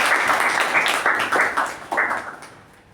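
Audience applause at a Toastmasters meeting, a small group clapping in a bright, uneven patter for a few seconds before fading out, fairly close and without speech.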